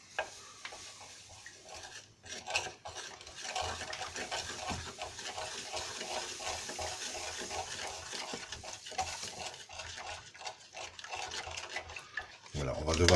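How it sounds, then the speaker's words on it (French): Small stirrer swirling sachet powder into water, a steady scraping and clinking stir with soft watery swishes that repeat through the stretch, close and fairly quiet. "on va délayer le contenu du sachet dans l'eau"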